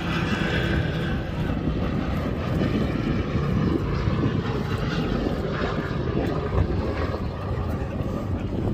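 Sally B, a vintage aircraft, flying at the Duxford air show, a steady loud engine drone that holds throughout without a break.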